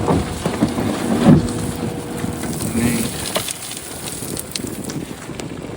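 Strong, cold wind blusters outdoors with constant rough microphone buffeting and gusty rumble, with a brief voice at one point.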